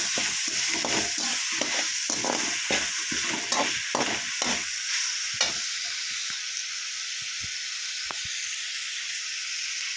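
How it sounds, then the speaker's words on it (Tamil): Chopped tomatoes and onions sauté in a pan for crab gravy, a steady broadband sizzle with a burst of stirring scrapes and clatter in the first half that settles into a quieter continuous fry. "இப்போ நம்ம ஆட் பண்ண தக்காளி வெங்காயம் எல்லாம் நல்லா சேர்ந்து நல்லா வதக்கி வரட்டும்"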